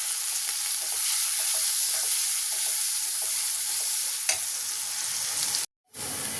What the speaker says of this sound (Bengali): রসুন পেঁয়াজটা ভাজা ভাজা হয়ে গেছে